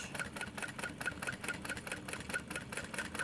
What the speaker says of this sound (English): now you'll sew that on with a 3/8 inch seam allowance